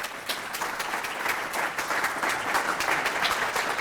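Audience applause welcoming Professor V. Ramanathan to the lectern at a climate change lecture, a steady dense clapping that holds loud and even for the whole stretch.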